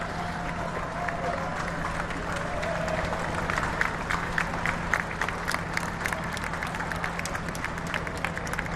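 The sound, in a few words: cricket crowd applauding a batsman's fifty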